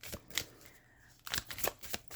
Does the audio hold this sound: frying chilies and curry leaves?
no